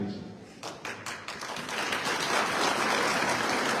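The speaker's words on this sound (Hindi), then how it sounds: "ताली बजा के अपने दिमाग को डिस्टर्ब मत करो" An audience at a political rally in India begins with a few scattered claps, then swells into loud, sustained applause that fills the rest of the moment.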